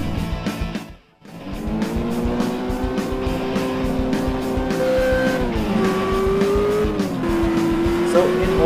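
The car in the VR racing game 405 Road Rage drives with a steady droning engine tone that shifts pitch as it accelerates, with tire squeal and a person talking over the gameplay sound.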